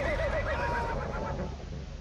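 A horse in Battlefield 1 whinnies with a wavering, descending call over a steady low rumble, fairly close and loud.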